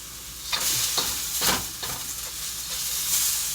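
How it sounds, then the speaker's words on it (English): Food is scraped and stirred in a pan, a run of sharp utensil strokes over a constant frying sizzle, close and without talk. "Let me stir up this stuff here."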